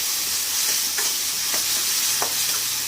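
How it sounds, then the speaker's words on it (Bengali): Spice paste for khichdi fries on a high flame with a constant hissing sizzle, broken by three or four distinct scraping strokes of a spoon stirring the pot, and no voices. "মশলাটা কিন্তু হাই ফ্লেমেই কষাচ্ছি"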